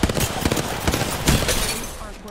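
Gunfire in the Apex Legends video game, a rapid burst of loud shots crackling close in the mix over a couple of seconds, with voice chat talking over it.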